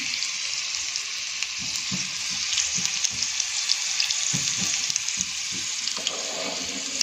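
Garlic frying in oil for an idli chutney, a steady hiss of sizzling with scattered small pops and faint clinks of stirring, close and continuous with no talk.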